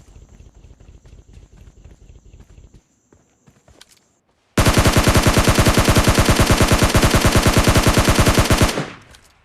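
Rapid automatic gunfire in PUBG gameplay: quieter, sparse shots and footsteps at first, then after a brief lull a loud sustained burst of fast, evenly spaced rounds lasting several seconds before cutting off.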